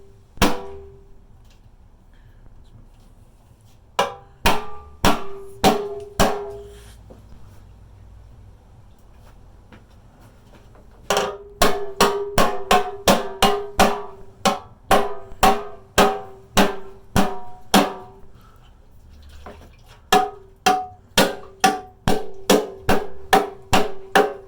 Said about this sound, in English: Get your hammer, don't be afraid, and brace this up with my knee a little bit on the underside.